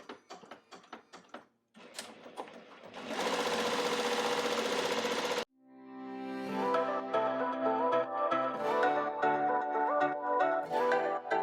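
A multi-needle embroidery machine stitches a two-layer 3D puff design through foam on a hat, starting with quick separate taps, then a steady rapid mechanical whir that breaks off and resumes as a rhythmic stitching hum.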